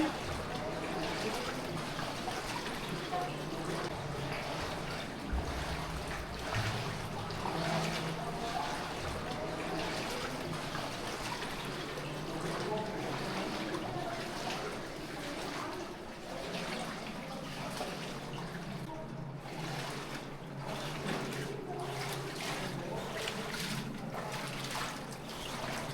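Water flows and trickles through the stream inside Hezekiah's tunnel in Jerusalem, a steady, enclosed babbling with splashes and echoing wades, and faint voices murmur beneath it.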